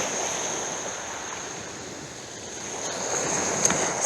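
Waves wash softly onto a dog-friendly beach near Brighton Pier, a faint, continuous surf hiss with light wind buffeting, no voices.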